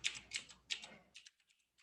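Quick, light clatter of keys on a computer keyboard, a few close bursts of typing that taper into sparse single taps.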